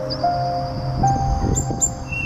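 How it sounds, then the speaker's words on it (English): A sparrow chirps in short, high tweets over a steady background hum, with several brief calls scattered across the moment. "S for sparrow."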